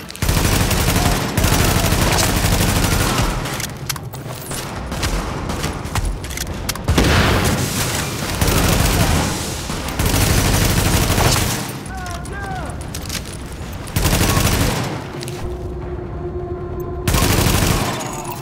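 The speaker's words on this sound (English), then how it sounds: "escort party's taking heavy fire from the roof" Heavy gunfire from a rooftop gunner in the video game Tom Clancy's The Division, Pennsylvania Plaza: dense, sustained bursts of automatic fire with booming impacts, loud and nearly continuous, dropping out briefly between volleys.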